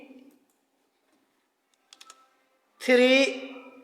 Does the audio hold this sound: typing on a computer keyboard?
yes